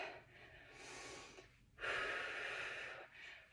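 Heavy breathing during a leg exercise workout: two long, audible breaths with a short pause between them, close to the microphone and fairly quiet.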